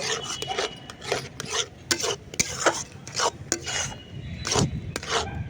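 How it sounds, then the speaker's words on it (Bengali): Salt being worked into cooked semolina dough with a spoon in a pan, giving repeated rasping scrapes and rubbing strokes in an irregular rhythm, close and clear with no talking. "আবারও ভালো করে সুজির সাথে মিশিয়ে নেব"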